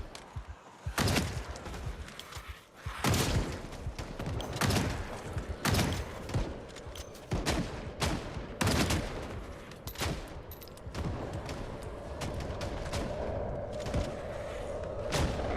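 Gunfire in Project Zomboid, a series of loud, sharp shots spaced irregularly over a steady background, with bursts clustering before a quieter stretch near the end.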